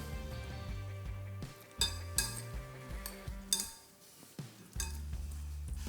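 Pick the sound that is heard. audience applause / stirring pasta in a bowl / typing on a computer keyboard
stirring pasta in a bowl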